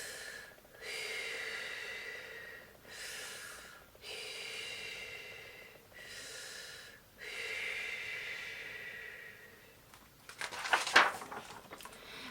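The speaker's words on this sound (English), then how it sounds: "took 3 deep breaths and let them out slowly" Three slow deep breaths drawn in and let out, each a soft airy rush a couple of seconds long with pauses between, close and quiet, ending in a brief louder sniff or rustle.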